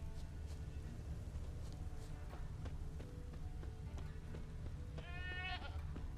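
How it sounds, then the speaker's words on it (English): Goat bleats in The Witcher 3 video game, a short wavering call near the end over a steady ambient game background with scattered faint clicks and footsteps, fairly quiet. "Oh, I hear the goat."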